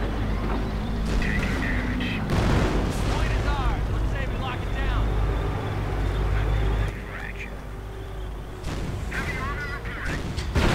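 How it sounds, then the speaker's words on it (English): Sector artillery barrage called in during a WWII strategy video game battle involving Panther and Pershing tanks: rumbling booms and blasts rolling continuously beneath steady commentary talk. "sector artillery getting called in an attempt to block the enemy from advancing further"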